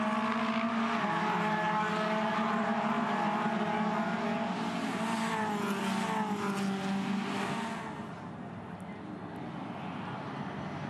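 A Toyota 86 race car at Bathurst, recorded on board as it runs downhill toward Forest's Elbow, its engine droning loud and steady with held harmonics. The engine note falls and quietens near the end as the car lifts off.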